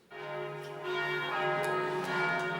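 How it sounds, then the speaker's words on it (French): Church bells ringing for Easter Sunday, struck tones swelling in after a quiet start and sustaining with overlapping chimes and long resonant hum, loud and without talk. "c'est le dimanche des cloches"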